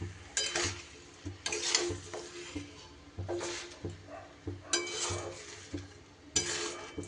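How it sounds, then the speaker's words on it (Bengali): Raw mango pieces stirred with jaggery and sugar in a pan over low gas, a utensil scraping and clinking in repeated bursts every second or so at close range, with no talk. "এবার গুড় চিনির সাথে আমটা আস্তে আস্তে ভালো করে মিশিয়ে দিতে হবে।"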